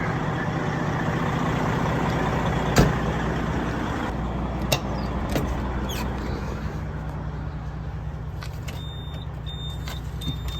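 Truck engine running at a low, steady rumble, close by, with a few sharp clicks and knocks over the top and no talking.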